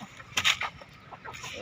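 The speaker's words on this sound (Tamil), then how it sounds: "நோவு வந்த கோழியை பாருங்கள்" Sick chicken gives a few faint, short clucks, a brief cluster near the start followed by softer sounds, quiet and close.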